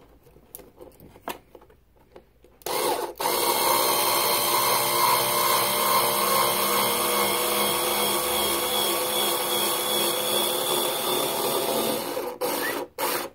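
Power drill drives drywall screws through a white acrylic mounting plate: after a few light knocks, a loud steady whirring grind runs for about ten seconds, then stops with brief clicks.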